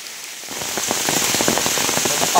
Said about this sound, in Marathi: पाऊस चालू झाला आहे